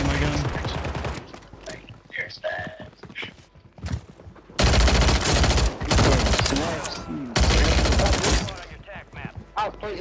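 Gunfire in the shooter video game Warzone 3, with dense bursts of automatic shots in long loud stretches broken by quieter gaps, mixed with game sounds.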